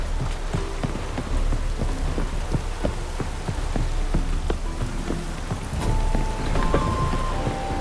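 Steady heavy rain falls in the video game The Witcher 3, a dense continuous patter with scattered louder drops and a low rumble underneath, with no talk.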